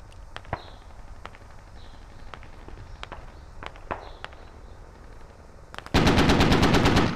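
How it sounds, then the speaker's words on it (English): Gunfire from an LAV armored vehicle in the military shooter game Squad: scattered distant single shots and footsteps, then a loud, close, rapid sustained burst of automatic cannon fire near the end. "they're just sitting there free shooting on us with that damn LAV or whatever"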